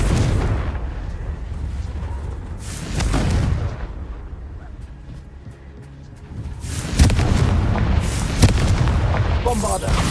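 Booming fire-spell explosions from the video game Hogwarts Legacy erupt loudly, with a heavy blast near the start and another cluster of sharp bursts later, over continuous game sound and spoken spell incantations.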